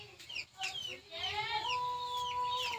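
A chicken clucks and squawks close by, with a drawn-out tonal call in the middle, loud and continuous against a quiet background.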